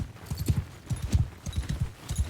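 Horse hooves clip-clop steadily in Mount & Blade II: Bannerlord, a rhythmic run of close, fairly loud hoof strikes in quick clusters with no voices.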